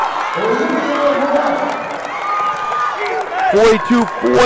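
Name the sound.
crowd cheering at a girls basketball game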